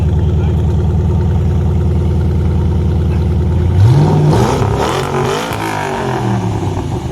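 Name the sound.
Ford Mustang engine revving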